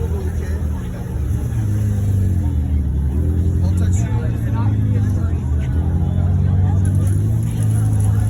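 A car pulls away from a cars and coffee meet in South Orange County, its low engine drone rising steadily and close, with people talking and crowd chatter around it.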